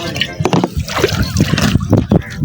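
Water poured into a crop-spraying pump tank for a rice field, heard as close, irregular splashes and sloshing with gurgles, while people talk over it.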